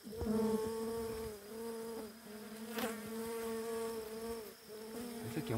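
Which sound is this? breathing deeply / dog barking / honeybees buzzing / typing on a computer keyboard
honeybees buzzing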